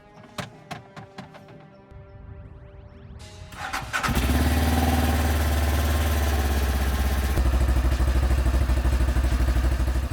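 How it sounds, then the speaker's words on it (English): A large one-liter engine on a Segway Villain side-by-side buggy cranks and catches after a few seconds of clicking and whirring, then settles into a steady, loud, rumbling idle close by. "The sound is pleasant. It lets us know that we have here a liter, a serious engine."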